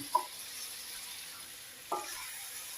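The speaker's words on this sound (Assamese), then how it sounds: "এতিয়া মই ধুনীয়াকৈ লৰাই দিম" Mutton curry with potatoes and spices being stirred in a pan: two brief spoon scrapes about two seconds apart over a soft, steady sizzle, fairly quiet throughout.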